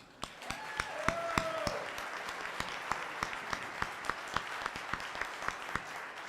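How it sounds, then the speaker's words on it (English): A church congregation at a Sunday morning worship service claps hands in a steady rhythmic beat, brisk evenly spaced claps from a group carrying on for several seconds in a reverberant room, with a brief sustained tone early on. "So let's give a hand clap so we know we're here and ready to go."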